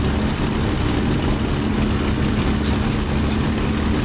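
Simulated engine of a Messerschmitt BF 109G-6 taxiing at Duxford in a flight simulator game, a steady loud low droning hum that holds constant throughout with no voices.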